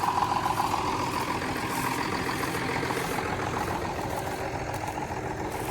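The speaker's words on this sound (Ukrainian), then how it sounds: "Просто трактор без балансирів." A heavy John Deere tractor diesel engine drones steadily and loudly throughout while pulling a Lemken Karat cultivator over stubble, with a constant low rumble and a slight rattle, close by and without pause.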